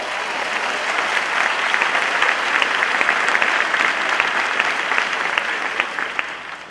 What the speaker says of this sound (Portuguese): Um aplauso a Deus pela vida dele.